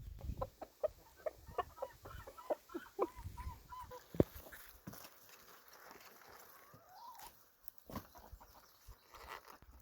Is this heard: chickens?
yes